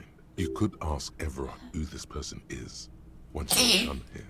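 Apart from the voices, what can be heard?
sneeze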